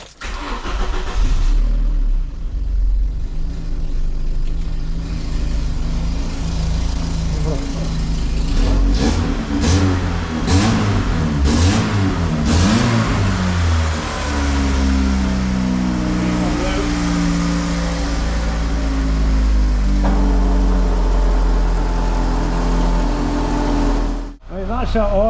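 A rare Vauxhall Cavalier Diplomat with a Peco Big Bore exhaust and SRi-spec system starts up and revs repeatedly, loud and close, the engine rising and falling before settling to idle, with voices heard over it.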